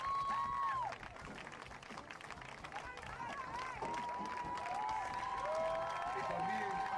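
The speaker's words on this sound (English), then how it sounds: "Un aplauso, damas y caballeros, para los Stingray" Crowd applause and cheering rise at an all-star soccer game, heard at a distance with whistles and shouts under a steady wash of clapping and crowd noise.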